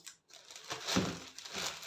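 Taped plastic package being opened close up: plastic packaging crinkles and tears, a short burst of crackling and ripping that peaks midway and trails off.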